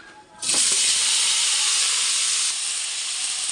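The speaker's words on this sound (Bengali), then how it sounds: "পনিরটা ভাজার জন্য তেলের মধ্যে একটু নুন দিয়ে দিলাম এরপর পনিরটা ছেড়ে দেবো" Paneer slid into hot oil seasoned with a pinch of salt bursts into a loud, sudden sizzle that holds steady as a bright, continuous hiss, easing slightly toward the end.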